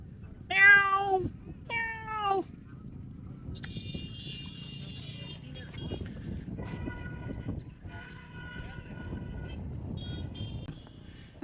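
A cat gives two short meows near the start, then a distant horn-like tone drifts in over quiet background noise in a village beside the Sundarbans.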